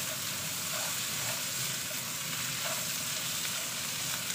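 Pork pieces browning in oil in a non-stick pan for kaldereta, an even, continuous hissing sizzle held close and steady throughout, with no speech over it.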